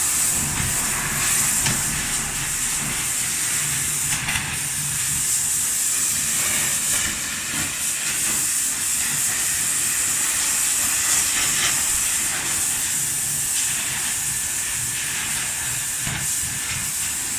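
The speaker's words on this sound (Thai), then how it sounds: "ลอกครับใช้น้ำยาทาแล้วก็ยิง ยิงเครื่องฉีดน้ำเอาครับ" A pressure washer blasting paint stripper off a 6640 tractor during restoration, a loud continuous hissing spray that holds steady throughout with small fluctuations.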